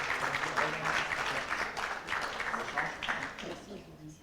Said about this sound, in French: je demande une ovation, un tonnerre d'applaudissements, une hola carrément collective pour Monsieur Pierre Pelouzet